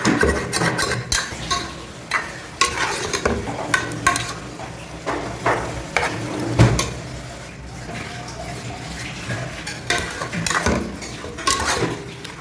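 Mutton gravy ingredients sauté in a pan, with repeated clanks and scrapes of a spoon stirring against metal over a continuous sizzle, loud and close.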